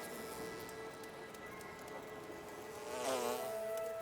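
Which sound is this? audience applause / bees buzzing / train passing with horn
bees buzzing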